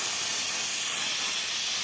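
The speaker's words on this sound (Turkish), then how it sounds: "çok fazla da açtığım zaman buharın bitme olayı olabilir" An H2O X5 steam mop releases a steady, close, loud hiss of steam that holds constant without a break and with no talking.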